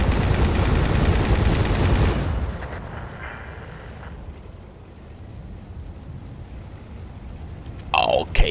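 A rocket artillery vehicle in World of Tanks unloads a magazine of shots as a loud, dense burst of rapid firing for about two seconds, then the noise fades to a low rumble before a short, sharp burst near the end.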